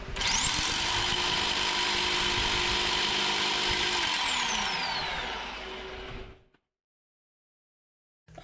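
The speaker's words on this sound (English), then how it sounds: "I drill a small pilot first" A power drill bores a small pilot hole into a concrete garage floor, a loud sustained whine with a constant grinding edge that shifts pitch midway, then cuts out, leaving silence before a brief knock.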